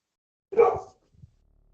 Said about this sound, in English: She's gonna keep barking.